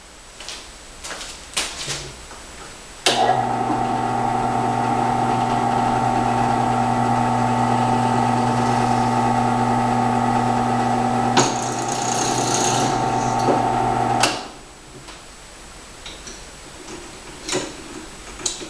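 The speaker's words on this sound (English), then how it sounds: "I'm going to drill these other ones." A power drill whirs steadily for about eleven seconds while drilling holes, a constant mechanical whine that cuts off abruptly, with quiet clicks and shuffling before and after.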